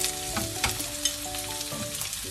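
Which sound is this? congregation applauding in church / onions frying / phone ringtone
onions frying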